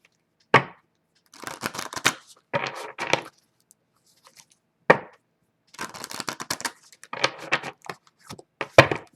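Oracle cards shuffled by hand: bursts of crisp riffling and papery slaps, several separate shuffles with sharp taps of the deck between them, close and clear with no talking.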